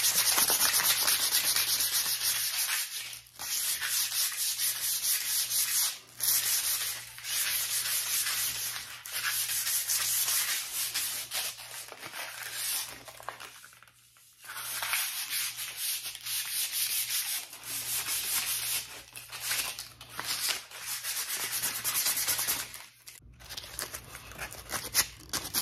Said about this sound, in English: That 150 grit sandpaper really does a number.